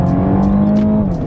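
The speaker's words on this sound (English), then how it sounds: "It's the B48 2-litre 4-cylinder engine, turbocharged to make 306 PS and 450 Nm of torque." The turbocharged 2-litre four-cylinder B48 engine in a MINI John Cooper Works Clubman or Countryman pulls hard under acceleration, a steady loud drone with a rising tone, heard from close by.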